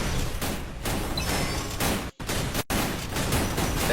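Rapid bursts of gunfire from a shooting video game, dense and loud, broken by two brief silent gaps midway.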